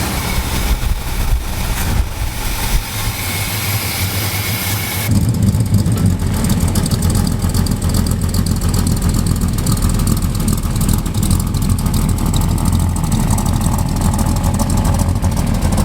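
A Squarebody Chevy truck engine, fitted with new plugs and wires, idles steadily and loudly up close, a continuous low rumble that grows fuller after a few seconds.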